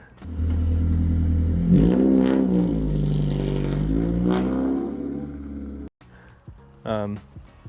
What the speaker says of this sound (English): It's got some straight pipe exhaust, which we'll get a clip of that put here.